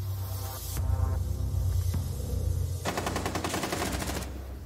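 Automatic gunfire rattles in Rainbow Six Siege during a close firefight. Rapid bursts come in quick succession, fairly loud and close, over steady game background noise, with no talk.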